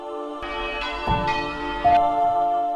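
Church bells rung by bellringers ring out in overlapping strikes, each peal leaving a long metallic hum that lingers under the next, loud and close.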